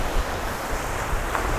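Waves breaking and wind gusting around a small island, a steady close roar of surf mixed with buffeting wind noise on the microphone, continuous and loud throughout.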